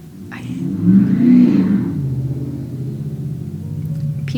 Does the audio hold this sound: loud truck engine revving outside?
yes